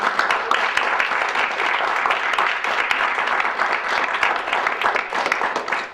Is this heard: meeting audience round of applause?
yes